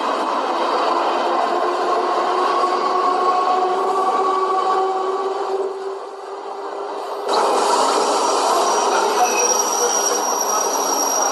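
A train running on rails at midnight, heard from inside a carriage: a continuous rumble with squealing wheel tones, dipping briefly before growing louder again.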